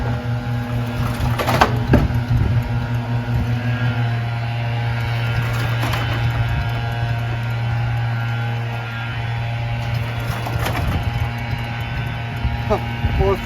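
A Craftsman wood chipper and leaf shredder with a 5 HP Briggs engine runs with a steady low drone, with a few sharp bursts from the pull-start and throttle. People talk over it.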